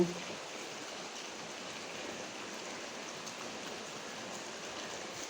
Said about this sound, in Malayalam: അതിമനോഹരമായ മഴയാണല്ലേ